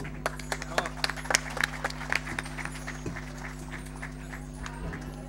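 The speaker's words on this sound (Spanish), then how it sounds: "un gran aplauso para todos ustedes" Scattered audience clapping at a live concert album launch, sparse individual claps over a steady hum, fading into a thinner patter.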